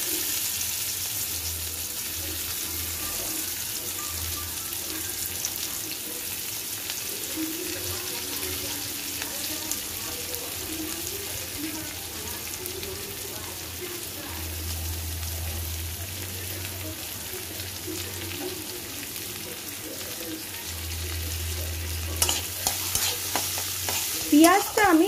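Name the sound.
frying chopped onions with turmeric in a pan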